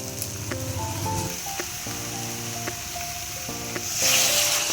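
Fried soybean chunks stirred into potatoes in a pan for a vegetarian soybean-potato curry, giving a steady sizzle with scraping stirs, tonal music-like bands underneath and a louder hiss near the end.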